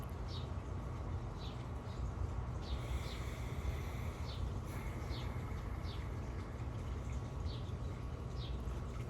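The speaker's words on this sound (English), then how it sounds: "That bird sounds beautiful." A bird sings outdoors in a repeated series of short, high chirping notes, moderately distant and fairly faint over a steady low background rumble.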